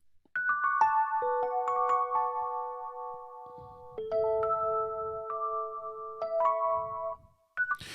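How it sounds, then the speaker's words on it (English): Mellow Mark II-style electric piano from the Expand plugin in FL Studio plays a slow, loosely timed chord progression, with sustained notes overlapping and some gliding pitches, clear and alone. "The E piano from Expand sounds like this."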